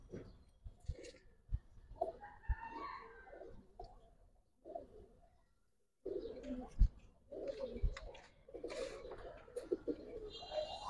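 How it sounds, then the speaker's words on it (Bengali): A caged male Giribaz pigeon at a pigeon farm in Old Dhaka coos repeatedly at close range in a steady series of throaty calls, pausing briefly around the middle before resuming, with faint fluttering and other birds in the background. "নটটা প্রচুর ডাকে"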